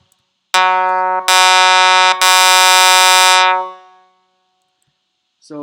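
Synth pluck patch playing three loud, bright, buzzy notes in quick succession, the last ringing out and fading away, followed by a brief hint of sound at the end.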